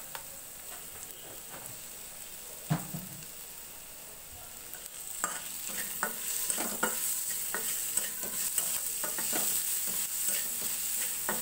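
Sweet pumpkin frying in a pan and being stirred, with a steady sizzle and scraping spatula strokes that grow busier and louder in the second half.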